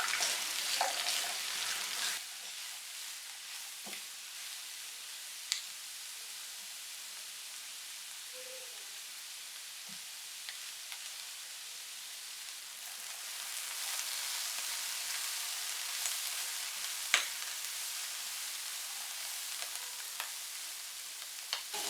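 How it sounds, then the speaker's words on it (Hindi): Peas, capsicum and cabbage frying in a pan for egg fried rice: a soft, steady sizzle that fades midway and then swells again, with occasional faint clicks. "1 कप उबली मटर, 1 कप छोटे क्यूब्स में कटी शिमला मिर्च और 2 कप बंद गोभी। अब इनको 2 से 3 मिनट फ्राई करेंगे।"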